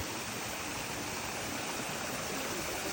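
Water runs steadily from an outdoor tap on a snowy day, a continuous broadband rushing hiss with no pauses, close and fairly loud.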